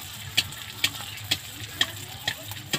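Pua pitha frying in hot oil makes a bubbling sizzle over a low hum, punctuated by sharp, evenly spaced clicks about twice a second.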